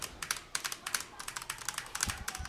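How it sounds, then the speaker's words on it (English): Rapid typing on a mechanical keyboard, a steady run of crisp, close keystroke clicks in an irregular rhythm with no talking. "I now have a very good mechanical keyboard."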